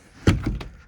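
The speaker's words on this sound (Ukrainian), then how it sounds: "Даже ця дверка відкривається." A small door on a YuMZ tractor clunks open with a couple of short knocks and rattles, close by and fairly quiet, with no talking.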